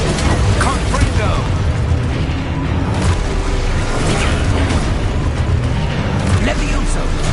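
Explosive spell blasts and magical combat effects in the Hogwarts video game, a dense, loud stream of booms, bursts and mechanical clatter with a voice shouting over it throughout.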